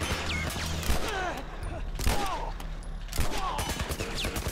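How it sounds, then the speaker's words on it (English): Scattered bursts of gunfire in The Last of Us, several sharp shots spread across the moment over game background sound, with brief sweeping tones in between. "Now they're just shooting to shoot, I guess."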